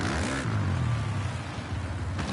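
Two motorcycles race around a hay bale, their engines a steady, close, throaty drone that holds for a couple of seconds with no voices over it.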